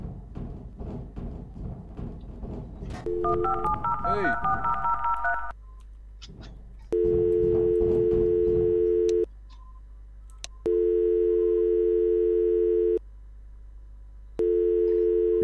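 A telephone plays a short run of stepped dialing beeps, then long, steady tone bursts separated by brief gaps, loud and close, with one shouted exclamation early on.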